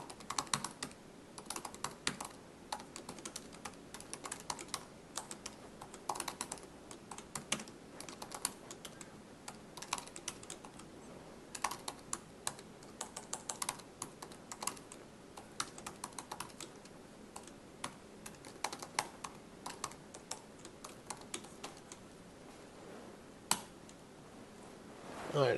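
Steady typing on a computer keyboard while writing Apache Spark code, a continuous run of close, crisp key clicks with irregular rhythm and occasional louder keystrokes, no talking.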